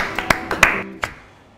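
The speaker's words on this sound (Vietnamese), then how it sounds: "Để mình vỗ tay cái nhở." A few people clap their hands in short scattered bursts, about five sharp claps close by within a second, then the room falls quiet.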